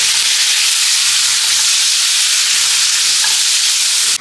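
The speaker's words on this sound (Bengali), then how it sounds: "আর দিয়ে দিব হচ্ছে ক্যাপসিকাম, এটা স্কোয়ার করে কেটে নিয়েছি, এটা এর মধ্যে দিয়ে দিব। এর উপর নাড়িয়ে নিই ভালো করে।" Capsicum squares stirred into a bubbling egg curry in a pan, giving a loud, steady broadband frying hiss that stays unbroken and close for the whole stretch.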